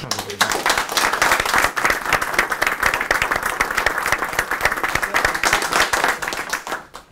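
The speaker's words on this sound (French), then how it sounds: "Je pense qu'on peut l'applaudir." Applause at a regional county council meeting in Portneuf, a loud, sustained round of many hands clapping with sharp individual claps audible, tapering off at the very end.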